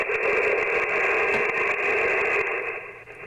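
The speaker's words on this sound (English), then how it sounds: "I'm turning the volume down so I don't have to hear the static" Steady hissing static from an HF marine radio fills the air at an even level, dipping slightly near the end.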